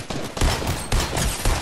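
Gunfire in the battle royale game Fortnite, a loud burst of rapid overlapping shots in a few clustered volleys, close and punchy with no talk.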